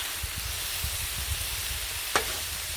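Chili sizzling on a hot flat griddle while a spatula stirs and scrapes it, with soft rhythmic knocks under a steady, loud frying hiss and one sharp metallic scrape near the end.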